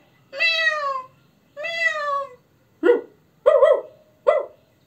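Two drawn-out cat meows, loud and close, followed by three sharp dog barks, all heard alone with no talking.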